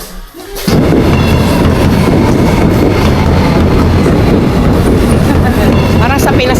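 Metro train in Saint Petersburg, Russia, roaring loudly and steadily as it runs, with a dense continuous rumble and faint rhythmic clatter after a brief quiet start.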